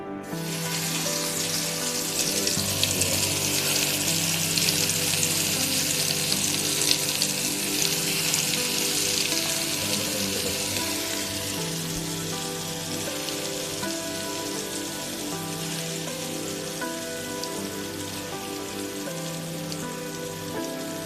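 Steady, loud sizzling and crackling of beef frying in hot coconut oil continues without pause, close up.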